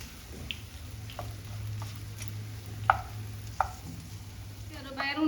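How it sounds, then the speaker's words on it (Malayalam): Chopped banana stem and green gram being stirred in a pan for a Kerala thoran, with soft scraping strokes and a few sharper spoon taps against the metal over a low steady hum, then a brief clatter at the end. "എല്ലാം കൂടി ഒന്ന് നന്നായിട്ടൊന്ന് മിക്സ് ചെയ്യാം."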